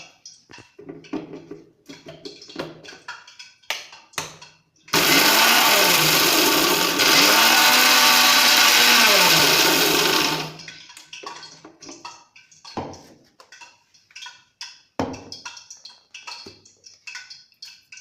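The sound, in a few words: mixer grinder grinding herbs into powder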